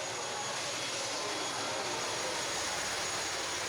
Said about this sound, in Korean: 타히티 섬에서 날아온 비행기는 후아힌의 섬에 승객을 내려주고 다시 관광객을 싣고 또 다른 섬으로 향한다